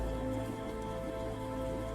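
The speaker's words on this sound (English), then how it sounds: "it starts to rain." Steady rain falls in a tabletop fantasy game session, a dense, continuous hiss of drops on a surface at even loudness with no voices.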